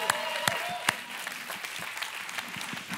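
Applause for online viewers at a church gathering in Wood River Junction: scattered claps with a few sharper slaps over a dull background murmur, moderately loud throughout.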